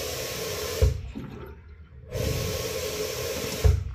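Water gushing from an opened tap in an apartment, a steady rushing hiss that briefly cuts out and then resumes, close and fairly loud.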